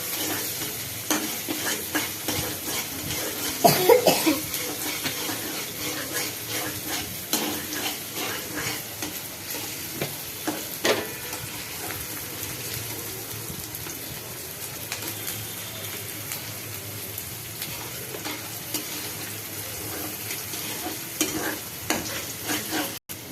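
Chili seeds fry in a pan while being stirred, giving a steady sizzle broken by scraping and clinking of the utensil against the pan, close up and continuous with no talk.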